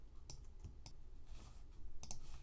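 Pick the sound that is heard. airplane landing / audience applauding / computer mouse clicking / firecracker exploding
computer mouse clicking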